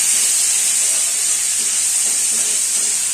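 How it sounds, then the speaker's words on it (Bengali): Spice paste with a little ginger paste fries in a pan for Bengali dalma, a loud, steady hiss and sizzle running throughout with no talking. "এবার একটু ভালো করে মশলাটা মিশিয়ে নেব বা ভালো করে ভেজে নেব"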